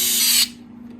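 A small power driver tightens a screw into a TRX4 RC truck body mount, a short close whirring burst that stops abruptly and leaves a faint steady hum.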